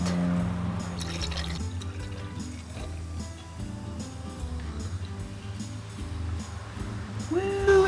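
Ginger ale pours into a glass of Thai iced soda, a steady fizzing trickle and splash running under music before a brief rise at the end.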